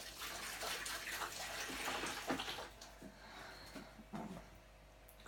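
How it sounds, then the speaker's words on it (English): Tap water running steadily into a sink while hands are washed, a continuous close splashing wash that eases off toward the end, with no speech. "Quick wash of the hands."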